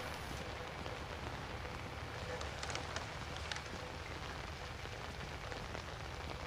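Steady rain falls throughout in the Outlast video game, a dense, even hiss of drops on surfaces with faint scattered ticks, heard alone at moderate distance.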